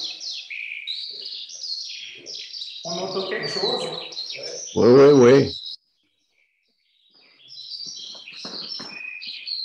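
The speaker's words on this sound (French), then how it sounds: "C'est effectivement une alouette des champs." A Eurasian skylark sings in bright, rapid trills and warbling chirps, with people talking intermittently over the song and a brief pause in the middle.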